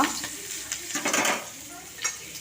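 Onion, ginger and garlic fry in hot oil in a pan that was just used for frying rohu fish. A steady close sizzle runs under brief scraping stirs of a utensil, with faint kitchen clatter.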